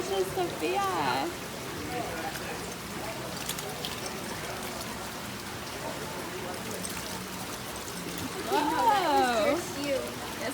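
Water splashes and patters continuously at a hands-on water exhibit in the Denver Museum of Nature & Science, a close, rain-like spattering with louder bursts at the start and near the end, while people talk and call out over it.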